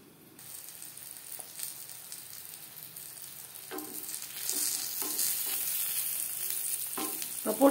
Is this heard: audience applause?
no